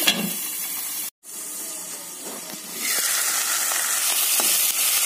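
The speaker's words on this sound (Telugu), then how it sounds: "మూత పెట్టి ఈ టమాటాలు బాగా మగ్గ వరకు ఫ్రై చేసుకోవాలి." Tomato pieces fry in a covered pan for radish sambar with a steady, close sizzle. It cuts out for a moment, then grows louder and hissier for the rest of the clip, with no talking.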